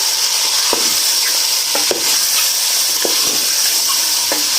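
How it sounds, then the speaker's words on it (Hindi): Steady, loud sizzling of chicken frying in masala in a pan, broken by scraping and clinking as a utensil stirs it every second or so. "इसको अच्छे से जो है वो भून लेंगे"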